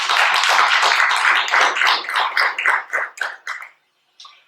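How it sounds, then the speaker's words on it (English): Audience applause for a musician, a dense burst of many hands clapping that thins out and fades to scattered claps, then a final lone clap after a brief gap. "You might want to give them a round of applause for that as well"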